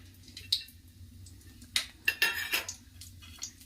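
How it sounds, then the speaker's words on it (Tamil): Cashews stirred in ghee in a pan: a few sharp metallic scrapes and clinks of a utensil against the pan over a quiet background, with no talking. "நெய் விட்டுட்டு அதில் முதல்ல முந்திரி பருப்பு,"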